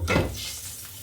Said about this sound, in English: we're going to be frying everything in vegan butter